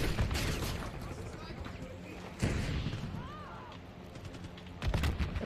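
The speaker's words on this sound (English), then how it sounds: "Now they're trying to shoot back at me" Gunfire in Call of Duty Black Ops 6 on the Nuketown map, a few loud sharp bursts spaced apart over steady game noise, with some talk mixed in.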